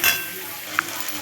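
Spice paste of chilli and turmeric powder stirred and frying in a pan, a steady close sizzle with a single soft clink of the utensil partway through.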